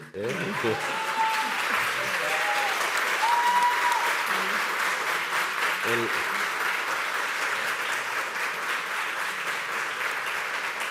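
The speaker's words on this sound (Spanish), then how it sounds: "ese aplauso es para el seguro" An audience at a panel presentation on housing law claps in sustained, even applause that fills the room, with a few voices briefly heard near the start.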